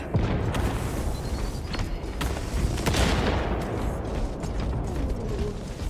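A frag grenade and gunfire erupt in a video game battle, heard as a dense, continuous roar of explosions, rattling shots and mechanical clatter that stays loud throughout.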